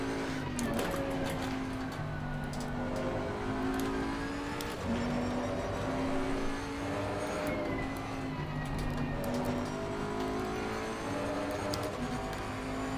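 A race car engine in Assetto Corsa Competizione at Laguna Seca holds a steady, loud drone, its pitch rising and falling through gear changes as the car accelerates, with other cars' engines layered in.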